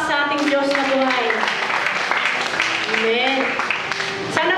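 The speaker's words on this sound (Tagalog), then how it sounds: "pinakamalakas po munang palakpak sa ating Diyos na buhay" Applause for God rises during a Filipino church exhortation, a dense, steady clapping wash that fills the hall and runs under a loud voice the whole time.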